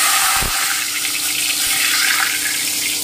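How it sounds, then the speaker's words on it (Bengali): Two bay leaves dropped into hot oil for a saffron mutton korma, a loud, steady sizzle that starts at once and keeps hissing evenly throughout. "এই যে আমার তেলটা গরম হয়ে গেল, এবারে আমি প্রথমে তেজপাতা দুটো দিয়ে দিচ্ছি।"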